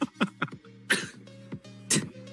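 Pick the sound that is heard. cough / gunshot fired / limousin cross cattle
cough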